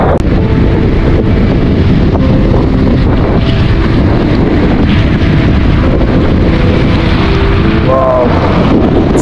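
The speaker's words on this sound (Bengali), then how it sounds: "আর প্রচন্ড লেভেলে বাতাস, এই বাতাসে ড্রোন উঠানো উচিত না" Strong, constant sea wind on the coast buffets the microphone with a loud rumbling roar that never lets up, with faint engine hum beneath.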